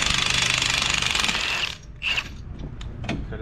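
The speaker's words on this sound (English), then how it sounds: "So I'm just removing the bolts for the caliper" A power drill whirs loudly with a rapid ratcheting buzz for a couple of seconds, removing brake caliper bolts on a Ford Fusion front hub, then stops, followed by metallic clinks and handling noises.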